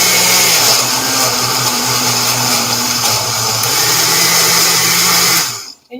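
A blender grinds frozen mango and pineapple into sorbet, a loud, steady motor whir with a churning, shifting pitch that holds for several seconds and then cuts off abruptly.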